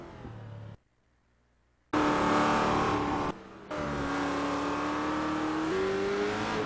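Radical GT race car engine at Spa in a racing game, loud and close, revving hard through upshifts with a brief cutout between bursts of acceleration.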